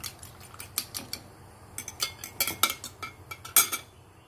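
Two cracked eggs are mixed in a bowl for French toast, with a utensil clinking and tapping rapidly and irregularly against the bowl, close and crisp with no talking.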